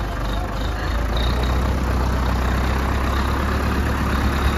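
A farm vehicle idles during a brief stop while its driver changes gear, a loud, steady, low engine rumble that runs close and unbroken with no clear talk.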